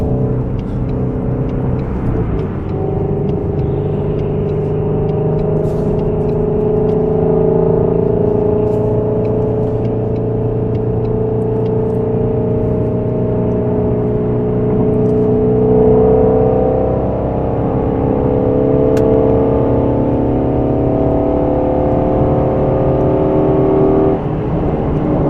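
A Ford Mustang GT350's engine drones steadily from inside the car while driving, a continuous loud rumble whose pitch rises and shifts as it accelerates, with no voices.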